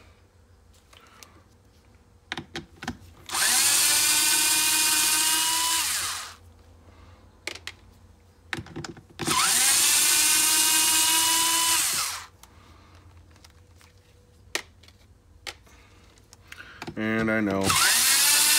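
A power tool driving a Torx bit to remove Allen screws from a differential whines in two sustained bursts of about three seconds each, with a short third burst, between quieter handling clatter. A person speaks briefly.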